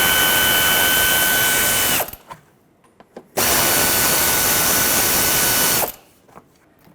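Power drill backing out two 5.5mm fender liner screws on a 2009-2014 Ford F-150, two loud sustained whirring bursts of about two seconds each, separated by a short quiet gap with small clicks.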